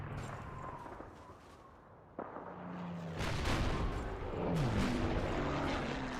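Video game gunfire bursts out in several sharp cracks and booms over a rumbling, droning game soundscape, growing louder and denser toward the end.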